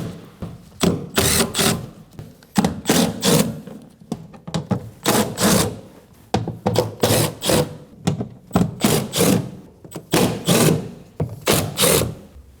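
Ratcheting of a tool loosening 10 mm bolts on a 2011-2016 Kia Optima rear power window regulator, coming in repeated close bursts of clicking with short pauses between them.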